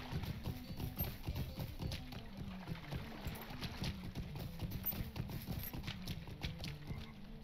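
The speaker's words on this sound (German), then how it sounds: "Gut, wir nehmen erstmal ein Pferdchen. Dann geht's hoffentlich etwas schneller." Horse hooves clip-clop steadily in Lord of the Rings Online, a continuous rhythmic trot of in-game footfalls at moderate loudness, with no talk over it.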